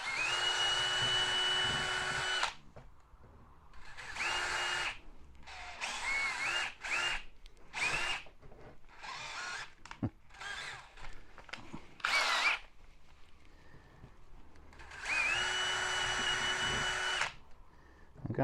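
A power drill reams holes in the roof section of a 1/6 scale Armortek Hetzer Jagdpanzer 38 model in repeated short bursts of whirring at moderate speed, with a few longer runs and quiet gaps between.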